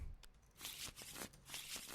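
A deck of playing cards for a boxing-themed board game is shuffled in two quick, faint riffling bursts close by.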